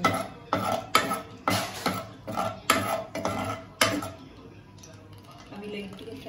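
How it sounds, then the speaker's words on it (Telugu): Cloves and cinnamon frying lightly in oil for an Andhra-style chicken curry, with a steady sizzle under a string of rhythmic clinks and scrapes from a utensil that stop midway, with a voice speaking over it. "తర్వాత లవంగం, చెక్క వేసి లైట్గా ఫ్రై చేయాలి."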